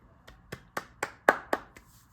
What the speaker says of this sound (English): I just had to clap.